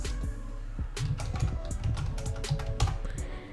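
Quick, light keystrokes on a computer keyboard, typed in short bursts at close range over a low steady hum.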